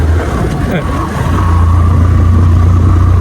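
A car engine revs hard and the vehicle lurches, with a loud steady drone that rises and holds.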